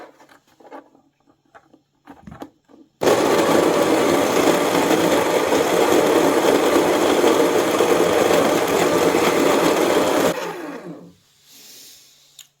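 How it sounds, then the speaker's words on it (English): An electric coffee grinder runs steadily for about seven seconds, grinding beans to a coarse grind with a loud, dense whirr that starts abruptly and cuts off, preceded and followed by faint handling clatter. "You'll have to figure out your machine exactly, but you want a fairly coarse grind."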